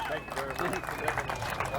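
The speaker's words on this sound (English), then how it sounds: "Another round of applause." Crowd applause at a bass fishing tournament weigh-in, a brief burst of clapping mixed with an announcer's voice and crowd murmur.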